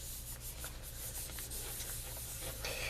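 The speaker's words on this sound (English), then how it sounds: "use my little paper to just kind of wipe, you know, rub on it like you do whenever you're doing any kind of jelly printing" Paper is rubbed across a Gelli printing plate with a continuous close scratchy swishing, steady strokes in a quiet room.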